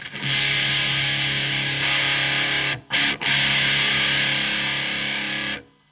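Heavily distorted electric guitar through a DOD Grunge pedal in mode 2, playing sustained chords with a thick, mid-heavy tone, loud and close, with a brief break near the middle before ringing out.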